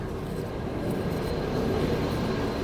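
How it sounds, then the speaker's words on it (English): A loud train passes nearby during motorcycle motor-mount work on a 1973 Harley Sportster, heard as a dense, steady rumbling roar that fills the whole clip with no talking. "Dang, that's a loud train."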